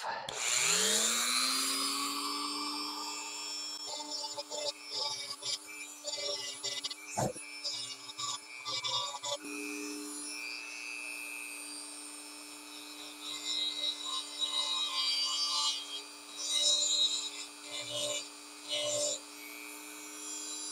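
A Dremel rotary tool spins up with a rising whine, then trims and chamfers the lip of a composite RC cowl, its steady high hum joined by intermittent grinding and rasping as it contacts the part.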